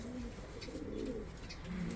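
Andijan breed pigeons coo in low, rolling murmurs, several soft repeated calls overlapping at close range against a faint background hum.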